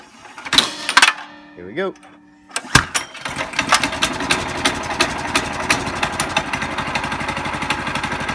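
Yerf Dog go kart engine cranked once and catching on the first pull, sputtering briefly before settling into a steady, loud buzzing idle; someone speaks briefly at the start.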